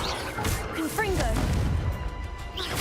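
A Confringo blast spell bursts in a video game with a crashing smash amid loud game noise, while a voice talks over it.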